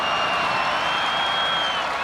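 Wednesday night college football stadium crowd at SMU vs. UCF, a steady roar of cheering and noise filling the whole moment, loud and continuous without a break.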